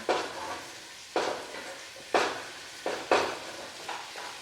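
Carrots dropped into a hot pan with sausage and coconut oil for a sausage kale soup, a series of about six bursts of sizzling and stirring, each flaring up then settling, close and clear.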